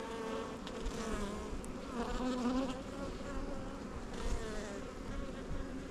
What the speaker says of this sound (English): you can see some nurse bees checking them out